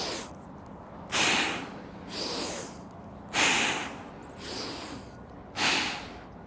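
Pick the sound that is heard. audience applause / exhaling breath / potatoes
exhaling breath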